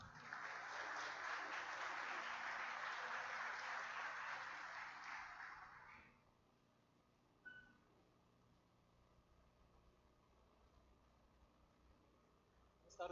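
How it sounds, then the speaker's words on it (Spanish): Audience applause at a Spanish-language panel event on independent work and telework, a dense steady wash of clapping for about six seconds that then cuts off into quiet room tone. "les pido por favor un aplauso para ellos"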